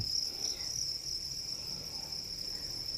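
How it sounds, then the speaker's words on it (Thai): Crickets in a farm pen chirping in a continuous, shrill high trill at a quiet level, with faint background noise and no talk. "มาดูจิ้งหรีดเช้าวันนี้ครับ"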